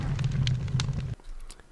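Dragon breathing fire in the video game Gothic 2, a loud roaring, crackling rush of flame that cuts off abruptly partway through, leaving quieter rumble.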